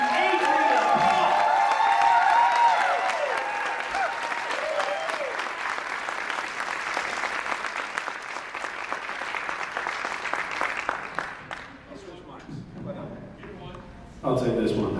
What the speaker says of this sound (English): let's give a very loud and proud Louisville welcome to Adrian Paul